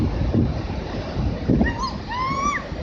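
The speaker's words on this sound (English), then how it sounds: "These waves can be many times larger than the others, move faster, and surge much farther up the shore." Large sneaker waves surge up a beach, a broad rushing wash of surf under gusty wind buffeting the microphone, with a couple of heavier pulses and faint high whistles late on.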